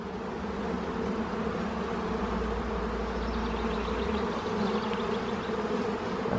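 Honey bees hum in a steady, dense drone close by while a beehive is opened for inspection, with a low rumble passing partway through.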